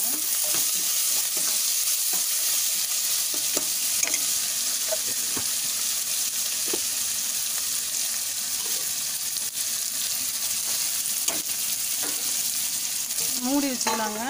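Sautéing with salt in a pan while making prawn kulumbu, a strong continuous sizzle and crackle with intermittent clinks and scrapes of a stirring spoon, close and steady with no talk.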